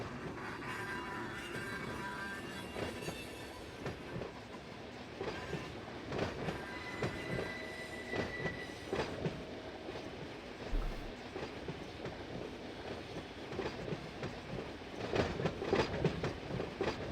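A long freight train rolls in the Run 8 train simulator game around Bakersfield, its wheels clattering and squealing steadily with a faint horn for the full stretch.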